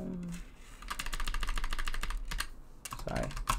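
Fast, close clatter of keys on a computer keyboard while code is written, a dense run of clicks with a brief pause before a final burst.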